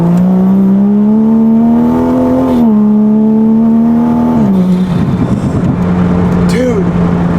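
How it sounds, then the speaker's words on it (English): A Toyota Supra pulls hard in fourth gear, its engine note rising steadily and loud, then dropping and settling back toward idle, with voices talking inside the car. "a 4th gear pull."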